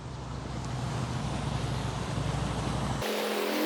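Steady, loud rush of falling water at a waterfall, a broadband roar with wind buffeting the microphone, continuous throughout and suddenly thinning toward the end.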